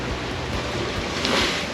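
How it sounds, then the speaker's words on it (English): Ocean swell and waves wash around a sailing boat not far from land, a continuous rushing noise mixed with wind buffeting, steady and moderately loud with slight surges. "I'm quite surprised we've got this much swell not that far from land."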